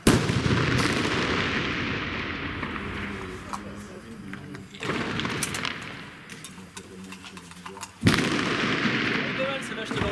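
Gunshots ring out at a shooting range: two loud, sharp bangs with lingering reverberation about eight seconds apart and fainter distant shots between, under French conversation.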